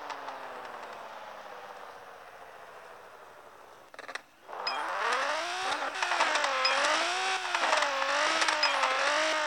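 Engine roar from a Nissan GT-R R35 racing in the mobile game Need For Speed No Limits: a steady drone, a brief drop around the midpoint, then loud revving that rises and falls in pitch, with no talk.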